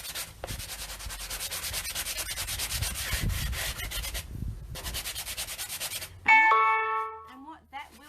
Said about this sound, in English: So then we get our sanding block and we just give it a light sand.